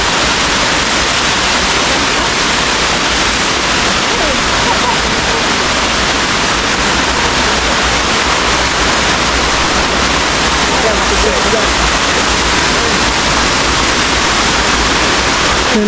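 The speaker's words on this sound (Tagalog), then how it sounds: "Ito yung falls." A waterfall on the Mt Lobo hiking trail roars as a loud, constant broadband rush of falling water, close by and unbroken throughout.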